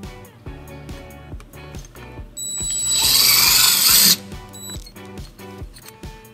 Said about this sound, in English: we're going to drill our first hole.